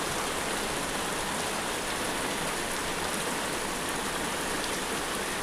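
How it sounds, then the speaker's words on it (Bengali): Heavy rain pours steadily in a continuous, dense hiss, loud and unbroken from start to finish with no voices. "এই যা বৃষ্টি হচ্ছে দুজনাই ভিজে যাবে মনে হচ্ছে।"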